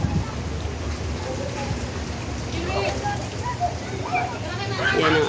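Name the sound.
rain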